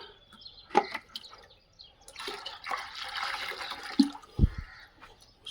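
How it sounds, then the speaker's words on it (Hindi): Water poured from a container into cleaned plastic chicken drinkers at a desi chicken farm in India, with a few short splashes and sloshes and then a steadier pouring rush, close and moderately loud with no talk. "इनमें थोड़ा पानी डाल देते हैं और"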